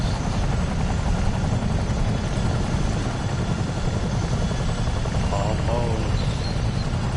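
A helicopter in Microsoft Flight Simulator 2024 on PS5 gives a loud, constant rotor and turbine drone that fills the whole stretch, with a faint voice briefly surfacing near the end.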